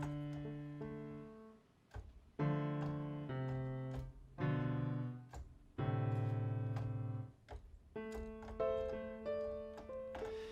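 A big, resonant sampled piano, the Giant from NI Komplete 10, plays slow sustained chords and notes, each ringing out with a long decay, alone without any voices.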